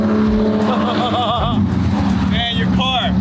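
A loud car engine revs hard with deep sustained exhaust roar and rising and falling pitch sweeps, at a rowdy night car meet with fire-spitting exhaust tips; voices and crowd noise mix in throughout.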